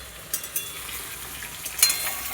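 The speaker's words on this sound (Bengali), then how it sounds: "এটা ভাজা ভাজা হয়ে গেছে" Potatoes frying in a pan give a short stretch of soft sizzling, with a few scrapes or taps of stirring standing out before it cuts off.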